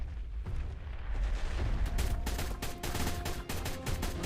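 Rapid bursts of assault rifle fire in ARK during a Brachiosaurus taming attempt, a string of sharp close shots starting about halfway and repeating in quick clusters over low rumbling game ambience.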